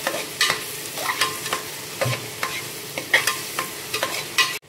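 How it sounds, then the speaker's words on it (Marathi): Tomatoes being sautéed and stirred in a pan, with a steady sizzle under repeated sharp scrapes and clinks of a spoon against the pan, close and fairly loud, no talking. "आणि याला पण आपण असं मस्तपैकी परतून घेणार आहोत"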